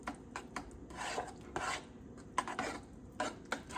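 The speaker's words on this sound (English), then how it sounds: "Stir that all around, okay?" Enchilada filling stirred in a pan, with rapid scraping and rasping strokes of a utensil against the pan surface, close and fairly quiet, with irregular bursts and small clinks.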